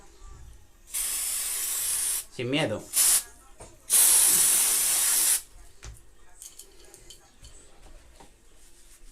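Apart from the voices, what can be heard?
silicone spray sprayed on fishing rod line guides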